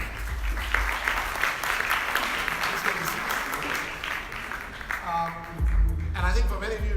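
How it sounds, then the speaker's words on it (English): Audience applause at a telecom infrastructure summit keynote panel on 5G, a dense steady round of clapping that tapers off, followed by a voice speaking over a microphone near the end. "Big round of applause."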